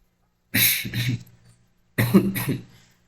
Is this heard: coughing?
yes